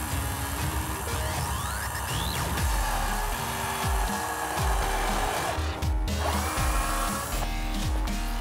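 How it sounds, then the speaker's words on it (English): A power drill turning an eighth-inch bit bores into a wooden rifle stock, giving a steady loud whine with repeated grinding pulses as the bit bites and eases, close up with no talk. "We're gonna go ahead and drill into the stock and fasten it down with the included screw that came with the pick rail."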